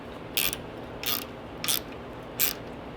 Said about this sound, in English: Use your 8mm socket with your manly size ratchet.